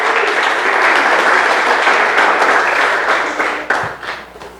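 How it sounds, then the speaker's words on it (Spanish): An audience applauds loudly for those celebrating birthdays, a dense round of clapping that holds steady and then thins out to a few scattered claps at the end. "Les damos un fuerte aplauso, por favor,"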